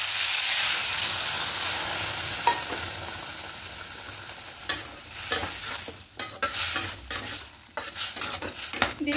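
Poppy seed and green chili paste being stirred into potatoes for a white aloo posto, with a soft sizzle at first and then repeated scraping and clinking of a spoon against the pan, close and alone.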